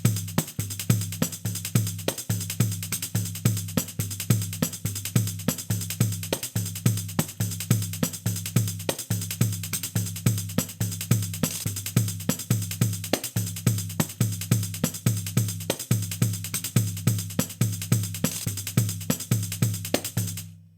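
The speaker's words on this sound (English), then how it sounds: "the Brazilian instrument called the Pandeiro" A Brazilian pandeiro plays a steady baião groove, with deep thumps under constant bright jingle rattle. The rhythm repeats evenly and loops for about twenty seconds with no voices.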